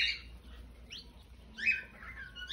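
Several short high chirps from Chinese quails laying eggs at a breeding aviary, quick bright calls in separate bursts over a low steady hum, fairly faint.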